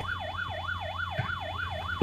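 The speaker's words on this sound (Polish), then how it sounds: "jedź na bok, bo policja idzie na sygnałach." Police car siren in a driving game, a wailing tone rising and falling in quick, regular sweeps, loud and close, ending with a short thump.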